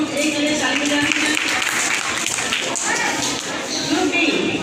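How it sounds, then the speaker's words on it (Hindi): A room of people applauds Group A at a 2024 road safety quiz event in India, dense continuous clapping that stays loud for several seconds. "ग्रुप ए के लिए ताली बजाएं।"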